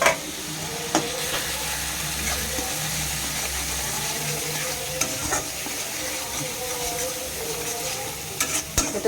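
Spices sizzle in hot oil in a pan during Bengali home cooking with ginger and garlic, stirred steadily so a continuous close frying hiss carries scraping stir strokes and small spatters, with no talk.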